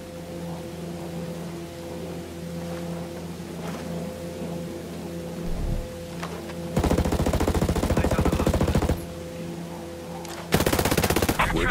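Bursts of automatic gunfire in Ghost Recon Breakpoint at a river bank, with a low ambient bed broken by a dull thump, then a long rapid burst and a second short, louder one near the end.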